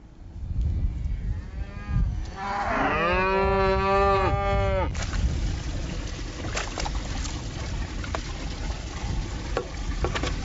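A cow moos in a series of long, harmonic-rich calls on a farm, loud and near over a steady outdoor background, the lowing tapering off after a few seconds into ambient noise.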